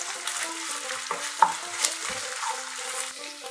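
Ginger and garlic paste frying on a medium-low flame for an egg kosha, a soft steady sizzle with occasional stirring scrapes and light clinks, close and continuous with no talking.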